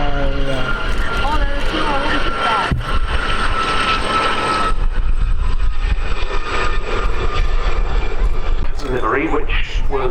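An aircraft roars in towards the crowd at the Abingdon Air and Country Show, a loud, sustained engine drone that shifts as it passes, with a commentator's voice over it.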